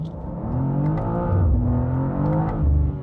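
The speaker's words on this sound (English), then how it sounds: "My tester today is a bit louder because it has the optional titanium exhaust." A 2025 BMW M2 LCI with the optional titanium exhaust revs its engine, a loud, close, rumbling drone that swells and falls in waves over a few seconds, with no talk.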